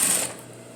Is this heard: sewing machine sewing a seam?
yes